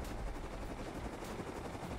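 Gunfire and explosions from a base raid in a video game heard from a distance, a faint, muffled, continuous rumble with dense crackling bursts and no talk.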